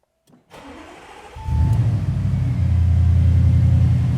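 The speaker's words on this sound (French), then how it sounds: "faut démarrer le moteur quand même" An Audi RS7 engine cranks and catches, settling into a steady, loud low rumble that keeps running to the end.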